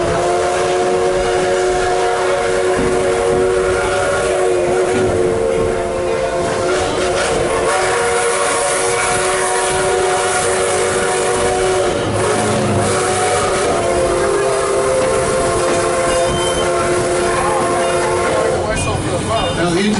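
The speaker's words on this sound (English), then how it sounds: "Blast the whistle there, not because there's a crossing there." The McCloud #25 steam locomotive on the Oregon Coast Scenic Railroad sounds a long, loud whistle over the rolling rumble of the train, with the whistle holding for most of the stretch.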